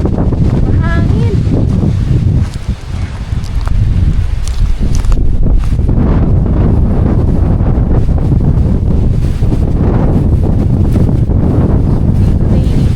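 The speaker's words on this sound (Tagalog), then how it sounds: "Mahangin." Strong gusty wind buffets the microphone in a constant roar, with brief lulls and scattered rustling underneath.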